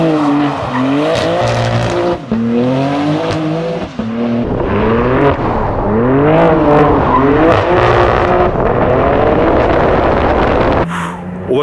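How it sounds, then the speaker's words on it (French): A car engine screams loudly nearby with a high, buzzy, motorbike-like tone, rising and falling as it speeds past. "elle fait un bruit de moto, la voiture"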